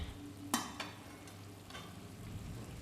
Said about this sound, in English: I fried it just a little bit.